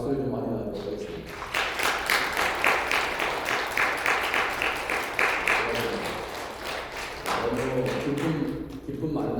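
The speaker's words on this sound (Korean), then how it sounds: "잠깐 일어나시면 우리 박수를 좀 많이 나누도록 하겠습니다." A church congregation claps at a Sunday service, the applause building after brief talk, running as rhythmic clapping for several seconds, then fading as a voice resumes.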